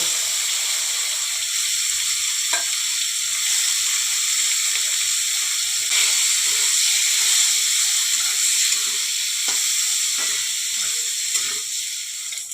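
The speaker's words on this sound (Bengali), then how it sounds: "উচ্ছাগুলো যে নুন হলুদ মাখিয়ে রেখেছিলাম, জলগুলো ঝরিয়ে এবার ভাজতে দিয়ে দেবো।" Bitter gourd pieces, coated in salt and turmeric and drained of water, frying in hot oil for a Bengali lentil dal, giving a steady bright hiss of sizzling with a few faint clicks, alone without talk.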